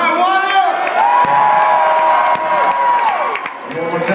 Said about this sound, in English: I want you all to scream your fucking heads off for the very first band of the